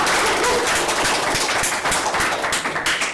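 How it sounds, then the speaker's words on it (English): Dense, loud round of applause from attendees at a general meeting, many hands clapping close by in a steady, busy patter that holds throughout and begins to fade at the end. "So one more round of applause."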